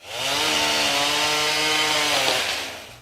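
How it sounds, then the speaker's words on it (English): A chainsaw cutting branches in steady rain runs at a steady high whine, close and loud, its engine pitch holding level through most of the clip before easing off. "The sounds of a chainsaw, steady rain, and snapping branches filled the air"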